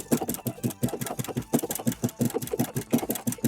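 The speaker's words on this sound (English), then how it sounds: "So I'm going to demo the broken zigzag right along this edge here" A sewing machine runs a broken zigzag stitch along the edge of sweater knit fabric, giving a close, steady series of rapid mechanical thumps in an even rhythm, with no talking.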